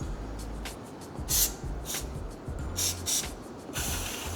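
Cleaner sprayed onto the rear brake disc of a Honda Hness CB350 motorcycle in several short hissing bursts, close and separated by brief pauses.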